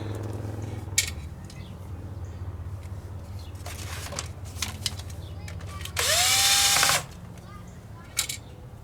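A lithium battery-powered tool whirs for about a second, rising in pitch as it spins up, amid scattered clicks and clanks in a room with a steady hum, during a Tesla Model S 12V battery replacement.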